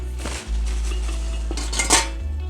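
An idli steamer holding mini millet idlis is opened, its metal plates clattering and scraping loudly up close in a short burst over a low hum, with no talk.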